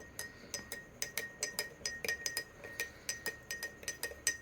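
Metal spoon stirring a teaspoon of salt into water in a glass, making quick, bright repeated clinks against the glass in an uneven rhythm, close and quiet.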